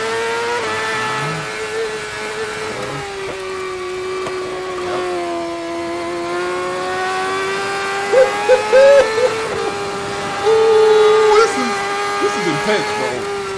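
A 2017 BMW HP4 Race superbike screams through a road race from an onboard position, its engine note rising and falling through downshifts and upshifts, with voices breaking in over it.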